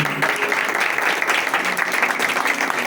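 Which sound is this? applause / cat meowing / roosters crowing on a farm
applause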